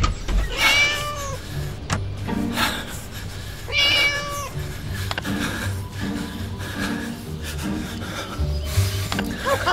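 A cat in the Scary Teacher 3D video game meows repeatedly, several drawn-out cries spaced a few seconds apart over game music and clattering effects.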